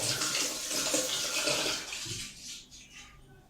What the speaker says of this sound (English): So I'll just keep rinsing out this razor as well.